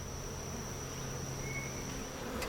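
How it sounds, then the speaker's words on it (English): Honey bees from a queenless hive with a laying worker hum steadily and faintly around a nearly empty hive box outdoors, a continuous drone with no talk. "There are very few bees left in this box now"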